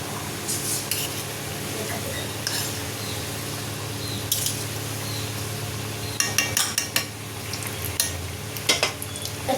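Kachori puffing as it deep-fries in hot oil over a medium gas flame, a steady close sizzle with scattered crackles and bursts of spattering, plus a few light clinks of utensils.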